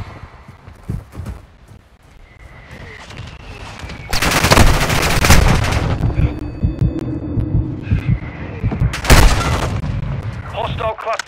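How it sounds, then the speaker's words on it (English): Mortar strikes land in Call of Duty: Modern Warfare with heavy booming blasts and rumbling impacts, two loud bursts standing out amid low throbbing hum and scattered battlefield noise. "Hostile mortar strike in the area."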